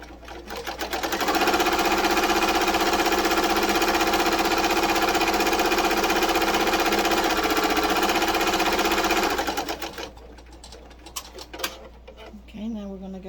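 A sewing machine stitches down a black appliqué on a pillow, running loud and steady at close range for several seconds before stopping, followed by light handling noises.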